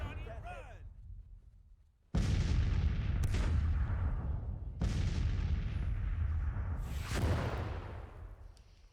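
Cannon artillery fire in a Civil War strategy game, a couple of heavy booming blasts with long rumbling decays that overlap into a sustained roar, after a brief quieter opening.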